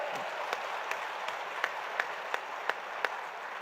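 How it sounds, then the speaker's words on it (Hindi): A crowd at Shivraj Singh's political rally in Shivpuri claps in near-unison rhythmic bursts, sharp regular beats over a broad wash of applause. "शिवपुरी की तालियां बजे।"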